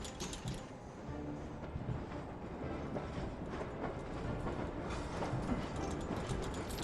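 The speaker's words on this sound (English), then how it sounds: "The train is finally ready to leave." A train departs in the video game Syberia, a continuous mechanical rumble with rattling, clanking wagon and gear noises building steadily over several seconds, with no talk.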